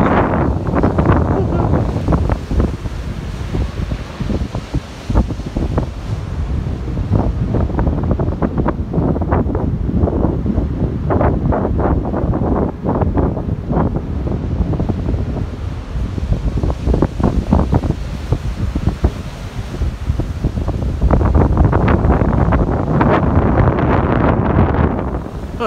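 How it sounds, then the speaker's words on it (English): Large waves break and surge along the coast near a pier at Enniscrone, with heavy wind buffeting the microphone; roaring surf rises and falls steadily throughout. "look at the size of those waves, like."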